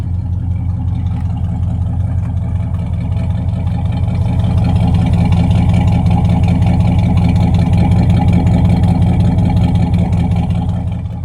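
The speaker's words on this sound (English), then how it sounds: "Strong sounding rumbling V8s." A 1969 Pontiac Grand Prix's 400 cubic inch V8 with dual exhaust rumbles steadily at idle, loud and close, with a deep throbbing pulse and no talking.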